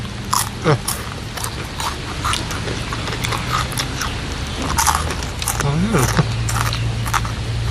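Crunchy roselle fruit is bitten, giving a few crisp, close crunches spread through the clip over a steady background, with brief voice sounds in between.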